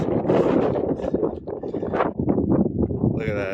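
Strong wind buffets the microphone on a mountain ridge of Mt. Timpanogos in autumn, a constant low roar beneath a person talking close to the mic.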